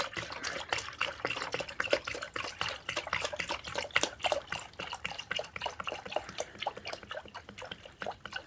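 Radiator coolant poured and mixed with Rad World during a radiator service on a 2000s-era Fiat 500 1.2, a close, irregular run of liquid trickles and drips at low volume across the whole stretch.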